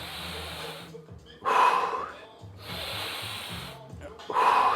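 Heavy breathing during a resistance band cardio workout, strong hissing exhales and inhales coming in bursts about every second and a half, loud and close.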